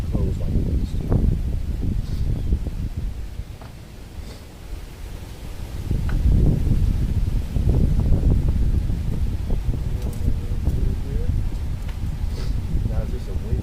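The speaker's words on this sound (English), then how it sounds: "Now it's just a windy day." Outdoor wind gusting across a microphone on a windy day, a steady broadband rumble and buffet that swells and eases, loudest past the midpoint, with no talk.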